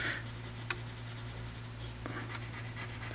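A pencil sketching a bird's beak on paper, with soft continuous scratching strokes and a couple of sharper taps, close and quiet against a low steady hum.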